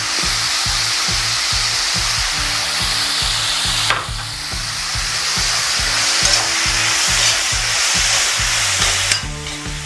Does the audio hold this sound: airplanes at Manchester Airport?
no